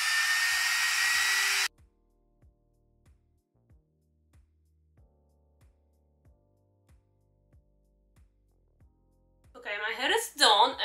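A loud hair dryer blows with a steady roaring whoosh, then cuts off abruptly, leaving soft ticking before a voice begins speaking.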